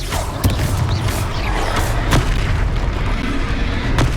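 A Confringo spell blasting in the game Hogwarts Legacy, with loud, booming explosive bursts over a dense, rumbling wash of battle noise, several sharp hits standing out in quick succession.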